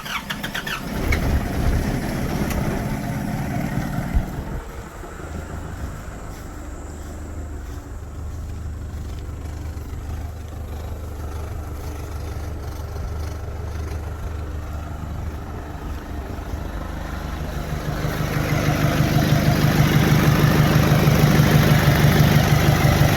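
A Nissan Patrol ZD diesel engine turns over, catches and settles into a steady idle. It then rises to a louder, rougher run toward the end, heard close by with no voices.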